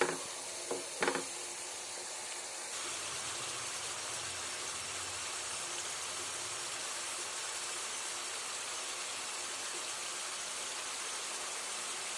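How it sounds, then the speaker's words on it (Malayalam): Anchovy fish fry in a pan on the stove, making a steady, even sizzle that runs throughout after a couple of brief knocks at the start, with no one speaking. "ചെറുതായിട്ട് മീൻ തിളച്ച് തുടങ്ങുന്നുണ്ട്"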